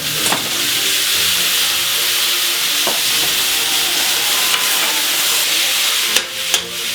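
Steaks sizzling loudly in a hot pan, a steady bright hiss broken by a few clattering knocks as the meat is flipped.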